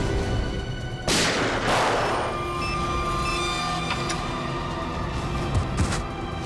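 Gunfire bursts out inside a railway station: a loud, sharp shot near the start, then a second blast echoing shortly after, followed by lingering rumbling ambience.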